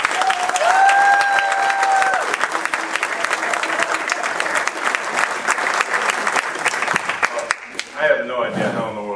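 A large audience breaks into a loud, dense round of applause at a presentation event, sustained clapping filling the room with some crowd noise and a brief voice near the start, tapering off at the end as a speaker begins.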